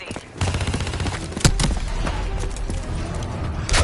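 Automatic gunfire in the Black Ops 3 shooter game, rapid sustained bursts with one sharp louder shot partway through, dense and close throughout.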